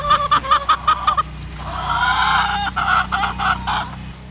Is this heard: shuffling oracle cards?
no